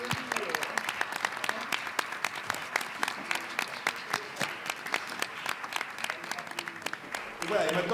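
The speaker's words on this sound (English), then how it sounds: "I think she deserves a round of applause." Applause from the press audience at a Cannes film festival press conference for a Corsican actress, many distinct claps spread through the room, moderately loud, fading as a voice begins at the end.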